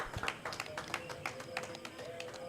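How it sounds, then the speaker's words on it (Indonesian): Applause from a small audience at a live broadcast from a café in Purwoharjo, Banyuwangi: sparse, distinct hand claps at an uneven rhythm, fairly faint, with a low hum in the room behind them. "Tepuk tangan yang meriah untuk kita semuanya."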